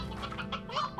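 Chickens in the Slime Rancher video game cluck in a quick run of short, chirpy bursts, fairly close and clear, with no talking over them.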